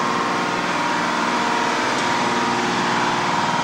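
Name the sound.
tugboat main diesel engine running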